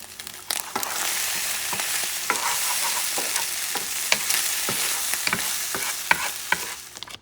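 Bacon from a local butcher frying in a pan, a steady close crackling sizzle punctuated by irregular pops and spatters, with no voices.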